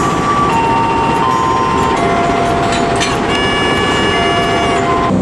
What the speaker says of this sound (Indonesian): lokomotif tengah dipasang kembali dengan rangkaian kereta Baturaden